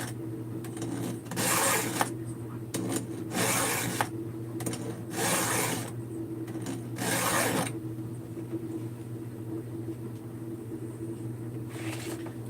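A file is drawn across a chainsaw chain's cutters in a short series of rasping strokes, several bursts of scraping grouped together and then a pause with a steady mechanical hum underneath, near and fairly loud.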